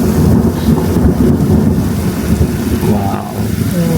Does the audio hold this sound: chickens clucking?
no